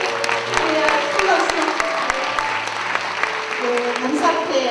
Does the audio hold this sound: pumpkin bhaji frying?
no